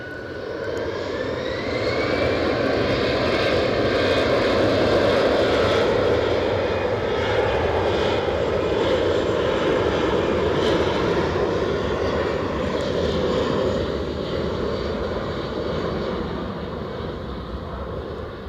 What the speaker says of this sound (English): Sounds like we've got an EasyJet on the push.